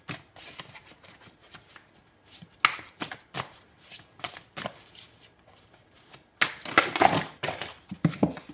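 Oracle cards are shuffled, handled and turned over at close range, with soft papery rustles and flicks that build into a louder burst of shuffling near the end, without speech.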